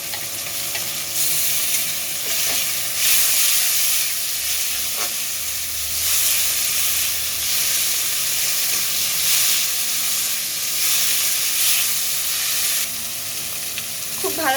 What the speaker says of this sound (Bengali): এবার একটু রসুন বাটা দেবো।